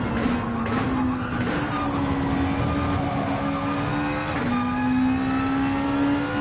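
Race car in a racing video game on fresh tyres, engine droning and shifting pitch through gear changes, with tyre noise and occasional skids, loud and steady throughout.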